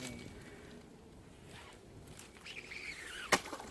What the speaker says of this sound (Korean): 어? 줄 풀리는 소리가.